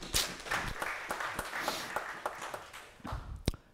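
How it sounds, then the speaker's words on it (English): Sparse applause greets a speaker at a hacker conference talk about banking malware, made of scattered, distinct claps from a small audience with sharp individual hand strikes that thin out toward the end. "Let's give a round of applause for Saad"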